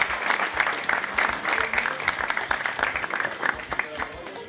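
A Macedonian stand-up comedy audience applauds on cue, a moderate, busy patter of many hands clapping steadily for a few seconds with no voices over it.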